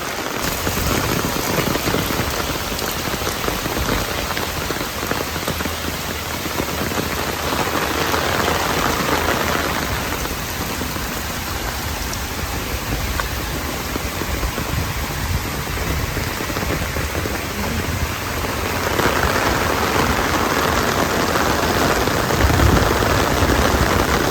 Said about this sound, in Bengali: ওরে বাইরে ভাই, বৃষ্টি রে, সেই অস্থির।